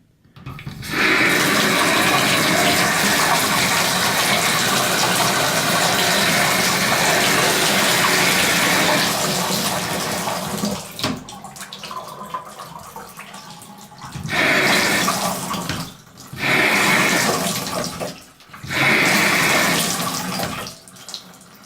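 Water gushes strongly from a faucet after an O-ring replacement, a loud continuous rush that cuts off, then restarts in several short bursts as the tap is turned on and off, with no talking.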